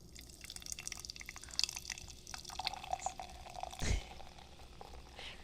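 Sparkling Citron flavored energy drink poured into a glass, a steady fizzy splash and bubbling with a brief louder gush near the end, no talking.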